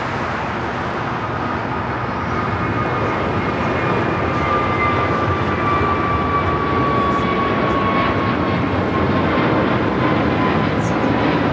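Airliner taking off from runway 25 right at LAX, a loud, continuous broadband engine roar with a faint whining tone slowly drifting lower, steady throughout and heard from a distance.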